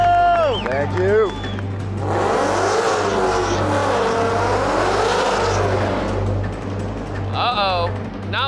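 A custom Mustang running an untuned 200-shot nitrous setup launches down a drag strip with a loud, sustained roaring acceleration that sweeps up and down. An announcer shouts before and after the run.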